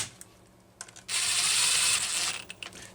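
Ratcheting clicks from a tool tightening screws on a Homelite Super 1130G chainsaw, a few close sparse clicks leading into a sustained loud grinding ratchet run, then scattered clicks.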